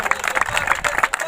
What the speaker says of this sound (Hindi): जोरदार ताली से अभिनंदन और स्वागत।